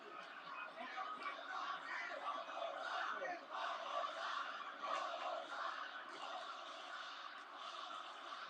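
Wrestling arena crowd in Boston cheering and roaring during WWE Raw, a thick swelling wash of voices that rises and falls in waves without letup.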